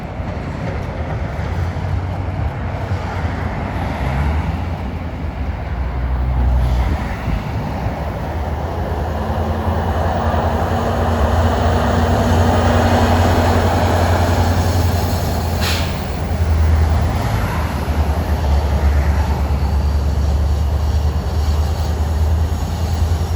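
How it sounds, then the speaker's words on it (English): NJ Transit train 1213, led by a PL42A diesel locomotive, rumbles past at Collins Curve on a sunny day, a loud continuous roar of engine and rolling wheels with a faint squeal partway through. "Here comes train 1213 heading for Warwick"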